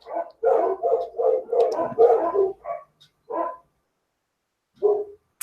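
Several dogs bark in an excited run of overlapping woofs and yips, close by and loud, then a pause and one more short bark burst near the end.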